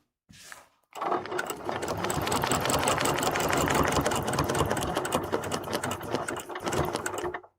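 After a brief knock, a sewing machine stitches a quilt in one long, continuous, close run of rapid mechanical chattering that stops at the end.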